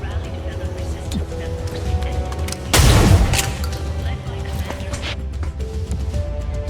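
A single sharp gunshot crack lands partway through a turn of XCOM: Chimera Squad tactical combat, set against game ambience and speech.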